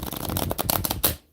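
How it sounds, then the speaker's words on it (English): A deck of playing cards being shuffled at home, a rapid close riffle of papery flutters for just over a second that stops abruptly into silence. "One more shuffle here."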